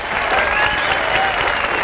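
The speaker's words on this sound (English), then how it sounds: "How about a nice round of applause?" A crowd at Bolero Lanes claps steadily for the bowling champion at a 1970 PBA Miller High-Life Championship final, dense continuous applause filling the hall at close range.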